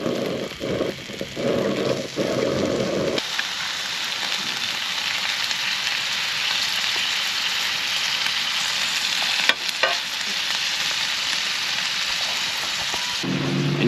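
Butter hisses in a hot pan on an outdoor cookout, a dense, steady sizzle that starts loud after a few quick clatters and carries on alone until a short pause near the end.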